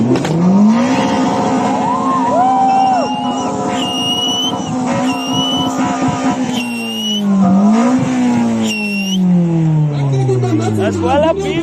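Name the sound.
car engine revving at a car show rev-off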